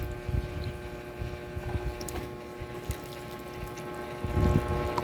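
Two and a half cups of water poured onto bread for bread pudding, a soft steady trickle and splash under a faint background hum, ending in a slightly louder gush.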